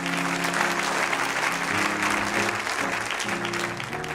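A church congregation breaks into sustained applause and cheering during a sermon, a dense, steady wash of clapping with a faint musical hum beneath it, loud and filling the room for several seconds.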